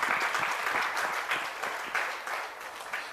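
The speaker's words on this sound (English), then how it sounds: "first give him a round of applause" A round of applause at a Toastmasters meeting after a member's speech: dense, even clapping from a roomful of people, sustained at a steady level with slight swells.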